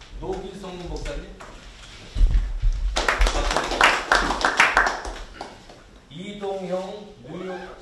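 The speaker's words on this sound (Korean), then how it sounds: "네, 박수 주세요." An audience at a New York Korean community gathering claps in a short burst of a few seconds, sharp close hand claps between stretches of someone speaking.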